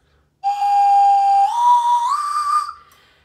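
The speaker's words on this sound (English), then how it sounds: "the slide whistle has high notes" A slide whistle plays a loud, clear sustained tone that steps upward in pitch twice before fading out.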